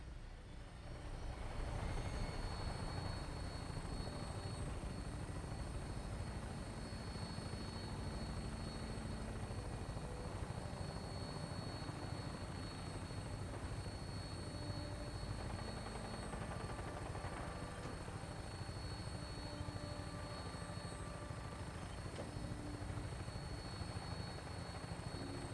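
A Brotherhood of Steel vertibird in Fallout 4 flies with a steady, loud rotor thrum and engine whine, sustained and unbroken after a brief spool-up at the start.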